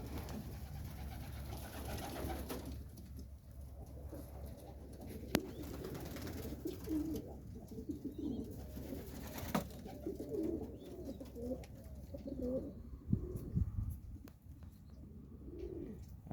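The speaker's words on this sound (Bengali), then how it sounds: "শুধু কবুতর আর কবুতর" Pigeons of a large breed coo softly and repeatedly over a steady low rumble of background noise, with occasional rustles and faint chirps mixed in.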